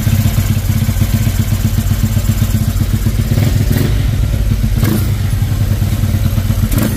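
A Honda Click 200cc scooter with a Kenada 34mm downdraft throttle body runs close by in a constant, rough, loud idle with a clattery, thumping pulse throughout.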